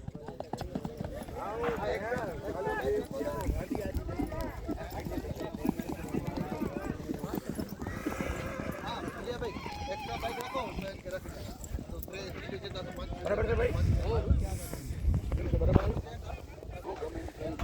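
Horse hooves clop steadily on the ground during a rewal chal horse race at Vekriya Rann, with occasional neighs and whinnies, while people talk throughout over a windy outdoor background.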